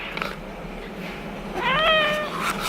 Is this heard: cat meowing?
yes